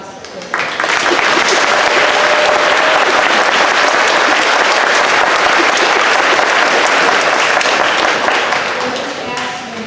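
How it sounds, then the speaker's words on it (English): Sustained audience applause fills a school auditorium after middle school orchestra student soloists play, a dense, steady wash of many hands clapping at full volume for about nine seconds before easing slightly at the end. "So big round of applause for them."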